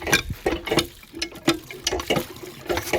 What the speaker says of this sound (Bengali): দাঁড়ান, পাম্প করুন আপনি, আমি ভরে দিচ্ছি।